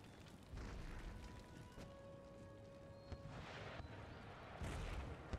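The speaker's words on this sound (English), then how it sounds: "So they're going to keep firing." Artillery cannons firing in a naval or siege battle in Empire: Total War, Venice campaign against the Prussian Empire; a steady rumble of distant booms with a few sharper bursts, plus a faint tonal hum in the background.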